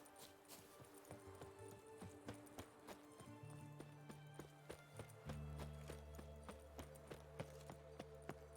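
Roach the horse from The Witcher 3 clip-clops at a steady walk, each hoof striking as a crisp, regular beat over low droning game music, with the footfalls continuing throughout.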